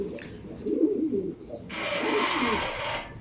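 Young racing pigeons coo softly at the loft in a few low, burbling calls, with a rustling, hissing burst of flapping or movement in the middle, close by and without talk.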